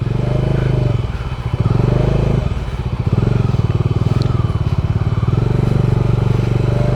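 A motorcycle engine chugs loudly and close by, its low thumping rhythm rising and dipping as it labors over rocky offroad ground near Parasnath Temple, Jharkhand, with occasional clatter.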